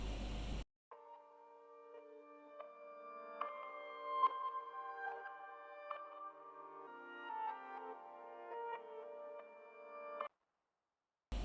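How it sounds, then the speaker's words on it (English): A soft, sustained ambient loop of layered tones drifts along steadily, washed in a lush reverb that lingers without any talking. "And then finally I added this ambience loop as well"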